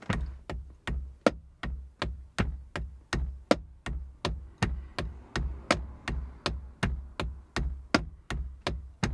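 A steady 12/8 drum groove in a rolling triple feel, each beat a sharp bright ride cymbal hit over low drum thumps, accented evenly throughout, with no voices.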